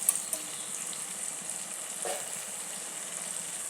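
A curry of tomato and elephant foot yam bubbling gently in a pot, a soft continuous sizzle with a faint hiss, quiet and close, without voices.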